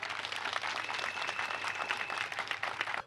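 Audience applause at a ceremony in Côte d'Ivoire marking the handover of an ambulance, a dense steady patter of many hands clapping at moderate distance, holding for about three seconds before it fades.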